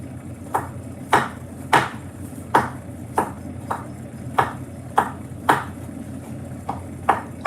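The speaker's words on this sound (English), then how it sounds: "So I'm now chopping up my garlic." Knife chopping garlic in a home kitchen during Christmas cooking prep: a steady series of about a dozen sharp, close taps on a cutting board, fairly evenly spaced, over a low background hum with no talking.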